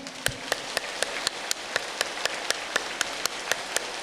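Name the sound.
applause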